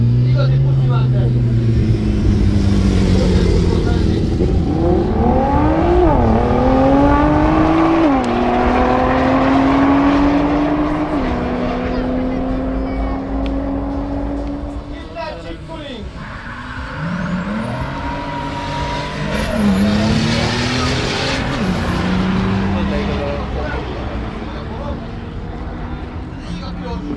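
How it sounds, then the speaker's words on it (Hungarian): A twin-turbo diesel BMW race car at a speed festival on an airfield circuit, its loud engine revving and shifting up through gears as it passes close, then fading and returning, with spectators talking over it throughout. "Turbo dizel BMW!"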